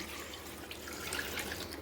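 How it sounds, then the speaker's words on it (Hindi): Two glasses of water pour into a pot of salted mutton for Peshawari namkeen gosht, a close, continuous splashing gush with no talk. "2 गिलास मैं इसमें डाल दूंगी पानी के।"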